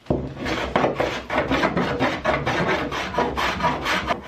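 Planing and scraping of wood at a repair spot on a boat's rubbing strake, where excess epoxy is being removed: rhythmic, close rasping strokes repeat steadily, each a short scratchy swipe, with no talking.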